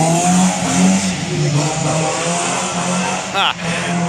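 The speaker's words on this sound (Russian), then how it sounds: "По звуку как будто мотоцикл." A motorcycle engine revs and whines loudly at night, rising in pitch, with voices talking over it throughout.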